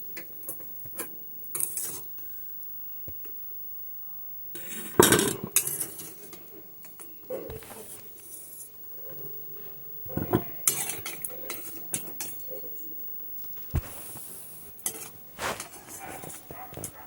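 Boiled potatoes and cauliflower are drained in a home kitchen, with scattered metal pot and utensil clatter and clanks in uneven bursts, some loud and close, between quieter stretches.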